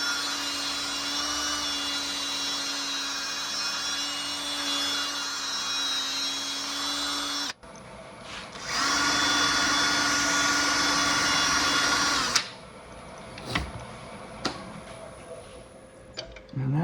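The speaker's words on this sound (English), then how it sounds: "And then I will buff that off with the linen mop on the drill." Cheap Ryobi drill spinning a linen buffing mop against a wood finish, a steady loud whine that shifts pitch midway, runs on, then stops into clicks and handling noise, with a voice heard at points.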